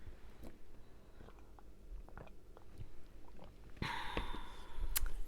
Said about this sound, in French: je vais prendre une gorgée de tisane